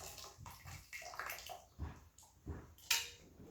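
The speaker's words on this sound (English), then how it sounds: "we want to take some boiling water and we put it in the tea" Boiling water pours from a kettle onto tea bags to brew tea for kombucha, with splashing and sloshing bursts that come and go, close by.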